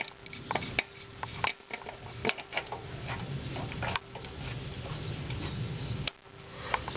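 Metal clinks and scraping taps from removing the carburetor bowl on a Briggs-built engine of a Toro Super Pro Recycler II lawn mower, close and irregular over a steady background hum.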